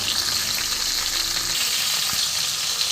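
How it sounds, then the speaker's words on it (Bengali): Rohu fish heads fry underside-down in hot oil, a dense continuous sizzle with faint stirring scrapes throughout. "একটুখানি নিচের দিকগুলো ভেজে নিচ্ছি"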